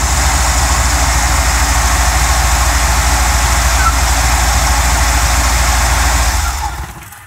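A GMC truck with a 305 engine idles loudly and steadily up close, a constant low rumble that holds unchanged before cutting off and fading away in the last second.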